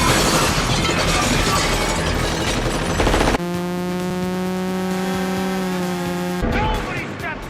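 A loud burst of shattering glass and rapid gunfire from a movie sound effect lasts about three seconds. It cuts abruptly to a sustained musical tone, then ends with a clattering tail.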